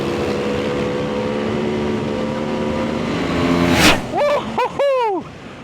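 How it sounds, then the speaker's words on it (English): A Ducati 698 Mono supermoto bike roars past at speed on tarmac, its engine note rising through sharp upshifts with bursts of revving, loud and close, a steady motor drone underneath before the passing climax. "Oh my god, the Ducati's got some speed!"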